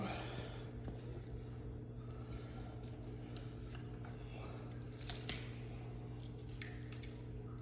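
A knife working through an animal's front leg at the knuckle joint, giving quiet close crunching, snipping and clicking over a steady low hum.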